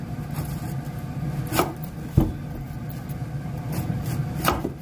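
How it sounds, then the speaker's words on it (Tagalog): A knife slicing through a pineapple, a handful of separate crunchy cuts with soft scraping between them, close and clear, no talking. "Maghiwa po tayo ng pinya."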